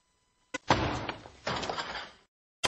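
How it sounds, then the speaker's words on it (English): A door slams hard, with loud, close bangs and rattling impacts bunched together, then one more sharp knock at the end. No talking. "Don't slam the fucking door."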